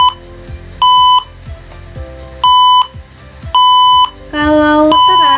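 An electronic buzzer in a blinking LED circuit sounds a series of loud, steady beeps, each about half a second long with short gaps between them, and ends in a longer, richer tone.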